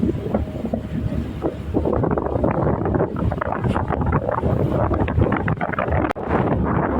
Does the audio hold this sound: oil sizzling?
no